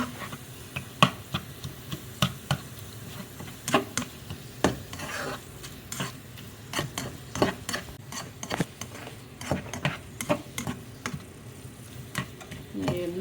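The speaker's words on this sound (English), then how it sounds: "Then you're going to add your shrimp. And mix that up in there." Shrimp stirred into a gluten-free crab cake mixture in a hot pan, a run of irregular spoon scrapes and taps against the pan over a faint, steady sizzle, with no talk.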